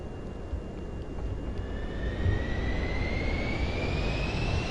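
Aircraft engine roaring during takeoff in Microsoft Flight Simulator 2024, a dense steady jet-like rumble with a rising whine climbing in pitch, loud and continuous.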